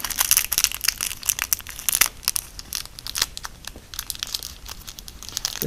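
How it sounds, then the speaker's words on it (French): Packaging for a new automatic transmission parts kit for a Chevrolet TH 350 gearbox being unwrapped, with loud, close crinkling and tearing of plastic and paper that runs continuously throughout. "Alors on va déballer le nouveau."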